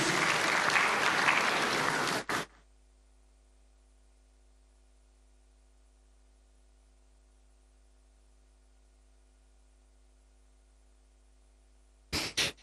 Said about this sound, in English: Let's give him a round of applause as he approaches.